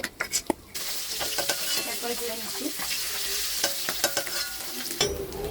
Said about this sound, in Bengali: বাকিগুলো আমি ভেজে নিচ্ছি